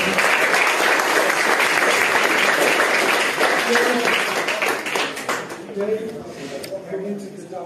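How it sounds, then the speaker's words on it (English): Applause for the fighters at a weigh-in for a Thai boxing show in Cork, dense and loud at first, then thinning as voices and cheers rise through the final seconds. "Give them a round of applause for the guys."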